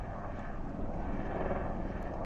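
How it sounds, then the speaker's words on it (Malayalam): A distant helicopter drones steadily over the trail between Lukla and Phakding in Nepal, near an iron bridge over water, in a broad, rumbling wash of engine noise that stays even throughout, with no voices. "ഇതേ ദൂരെ ഒരു കറുത്ത കളർ ഹെലികോപ്റ്റർ പോകണം"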